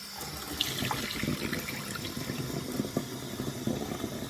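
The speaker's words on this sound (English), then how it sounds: "a not quite full mug of hot water from the tap" Hot water runs from a kitchen tap and splashes into a mug, a steady close gurgle with small clinks and drips, no talking.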